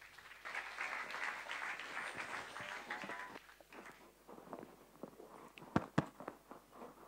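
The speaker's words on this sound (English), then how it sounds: "With a loud round of applause, can we have on the stage Ganesh, please?" A conference audience at an AWS developer event in Kochi applauds for a few seconds, then the clapping fades into scattered claps and stage footsteps with a couple of sharp knocks.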